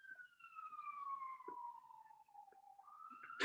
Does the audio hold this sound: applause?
no